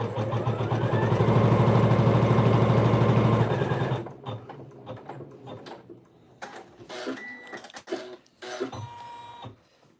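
A sewing machine stitches a straight pieced line, humming loudly and steadily up close for about four seconds before stopping; quieter handling clicks and rustles follow.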